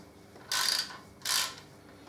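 A ratchet loosens clamp bolts on a Harley Davidson Deuce trike in two short, close bursts of rapid clicking separated by a brief pause.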